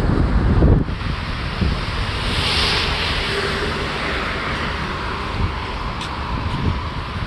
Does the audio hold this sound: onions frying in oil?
no